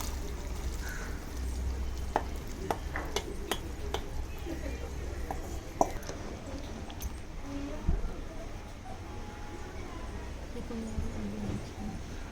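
Peas are stirred while frying for masala sundal, with a spoon clinking and tapping irregularly against the pan over a low background hiss.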